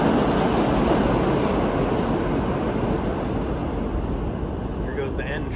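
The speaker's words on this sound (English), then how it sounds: "Here goes the N train." A New York City subway N train rushes past with a loud, steady roar and rattle that fills the whole stretch, slowly easing off toward the end.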